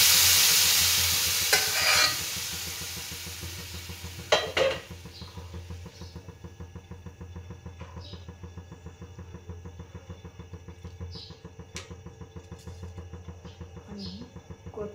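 Idli sambar tempering sizzles in a pan while a spoon scrapes and stirs, opening with loud frying hiss that fades into a regular rhythm of clinks and scrapes against the metal pot.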